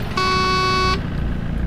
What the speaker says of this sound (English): Don't honk your fucking horn.